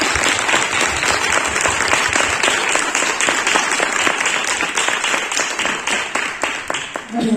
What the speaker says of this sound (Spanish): un enorme aplauso para todos los chicos y las chicas